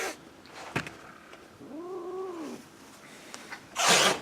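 A cat gives a single drawn-out, wavering meow close to a camera tripod indoors, with a few soft bumps and knocks around it and no talk.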